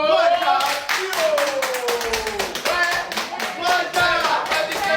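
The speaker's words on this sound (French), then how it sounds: "Les applaudissements." Clapping hands at a vote-results show, rapid, rhythmic claps from a small group, loud and close, with voices and singing-like tones weaving underneath.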